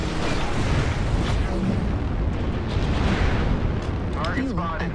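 Airstrike explosions in MechWarrior Online make a dense, continuous rumble of booms and blasts. Toward the end, a synthetic cockpit voice and other game sounds cut in over the noise.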